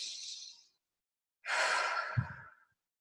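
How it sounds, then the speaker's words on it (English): A deep breath drawn in and then released in a long, audible sigh, close and soft, with a short silent pause between the inhale and the exhale. "I want to invite you to take a deep breath with me."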